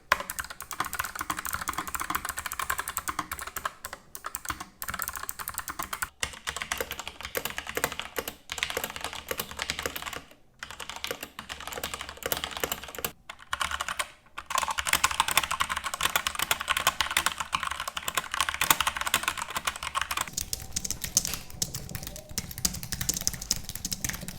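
Rapid, clicky typing on a NuPhy Air 75 low-profile mechanical keyboard with blue switches continues at close range, with brief pauses between bursts of keystrokes.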